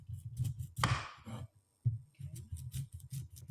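Knife chopping vegetables on a board for a low-carb stir fry, a steady series of close, dull thuds with a brief scraping sweep and a short pause midway, no voices.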